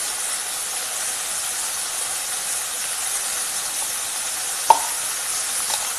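Chicken sizzles steadily in a hot pan for an Indian-style pepper dry roast while pepper is added, a continuous close frying hiss broken by one sharp clink near the end.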